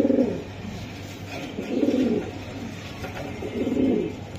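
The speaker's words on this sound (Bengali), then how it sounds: "দুইটা কবুতরের রেস করা কবুতর" Racing pigeons coo up close, three deep rolling coos in a slow regular rhythm over a steady low hum.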